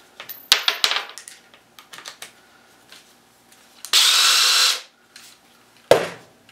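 A power drill fitted with a magnetic bit collar drives a screw during a woodworking build, giving one steady, loud whir of just under a second after scattered close handling clicks and knocks, then a short final burst.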